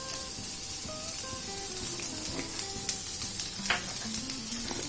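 Crushed garlic and cumin seeds sizzle quietly in oil on a tawa, a soft continuous frying hiss with faint scattered pops and a few clinks of a utensil.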